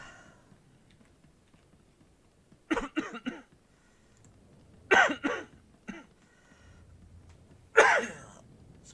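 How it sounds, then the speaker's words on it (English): A person in a Star Wars: The Old Republic gaming session lets out three separate bouts of coughing, each a short cluster of harsh, close bursts, with quiet stretches and faint clicking between them. "Sorry for my coughing."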